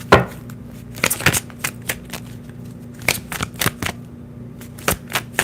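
Tarot cards being shuffled by hand in irregular bursts of sharp riffling snaps and soft slides, close and fairly loud over a steady low hum, with no talking.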